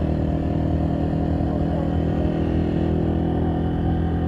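A motorcycle carries riders along the road toward Kotli, its engine droning steadily and loudly up close, with a constant rumble and no pauses or voices.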